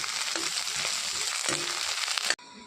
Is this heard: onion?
yes